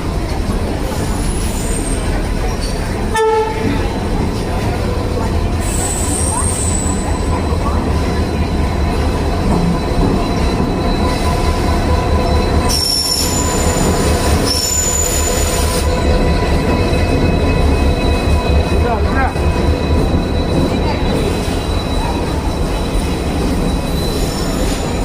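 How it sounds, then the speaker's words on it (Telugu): Narsapur Nagarsol Express pulling into a station, with loud continuous wheel rumble and squealing on the rails, and a short horn blast early on. No one speaks. "సో ట్రైన్ అయితే వచ్చింది"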